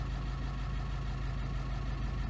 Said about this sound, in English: I need to start engine to build up the air.